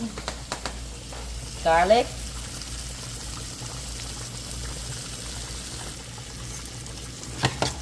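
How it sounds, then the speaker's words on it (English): Garlic frying in hot oil for a curry masala, a steady sizzle with a brief stirring or scraping burst near the start and light clatter, occasional voice in the background. "normally I'll put it first in the oil. So I'll put some garlic"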